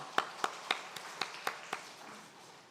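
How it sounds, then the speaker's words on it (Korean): Sparse, distinct claps in a loose rhythm from a small church congregation at a Sunday afternoon mission service, about seven sharp hand claps that then fade away into quiet room tone. "박수 한번 쳐주세요"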